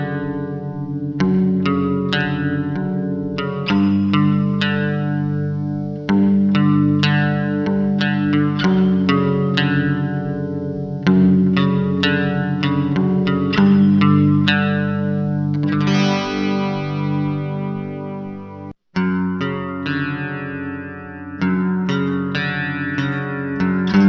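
An Ibanez or ORC electric guitar played through an effects-laden amplifier, strummed chords and picked notes with chorus and echo, loud and close, brief pause near the end.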